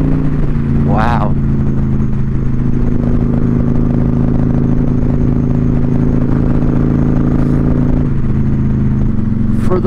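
A Harley-Davidson motorcycle with a Stage 2 107 engine accelerating hard, a loud, steady low engine roar throughout, pitch climbing briefly at shifts, heard close from the rider's position with wind noise.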